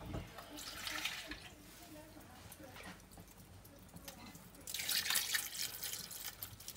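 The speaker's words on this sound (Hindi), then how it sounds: "और ये थोड़ा सा मैं पानी ऐड करूंगी इसके अंदर गोश्त को गलाने के लिए।" Water is poured into a cooking pot of mutton being prepared for karahi, a splashing pour that swells near the end, with someone talking over it.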